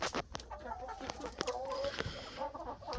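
Brahma and Jubilee Orpington mix hens cluck softly and nearby in a backyard coop, with irregular low clucks and murmurs scattered among faint rustling.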